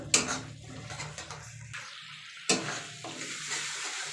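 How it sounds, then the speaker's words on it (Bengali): Bhola fish curry is stirred in hot oil, giving soft scraping and sizzling with a couple of sharper clinks from the spoon against the pot, fairly quiet and close. "তো ঢাকাটা এবার খুলে নেব নাড়াচাড়া করবার একটু"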